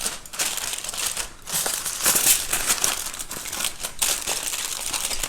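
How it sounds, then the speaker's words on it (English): Aluminium foil is folded and pressed over a green bean casserole, loud close crinkling in several bursts with short pauses between. "we're going to take another big piece of foil and completely seal this casserole"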